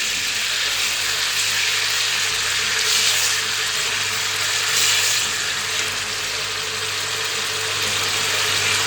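Chopped medium onion frying in oil in a pot for a chana dal dish, a steady close sizzle and crackle running evenly throughout, with no talk.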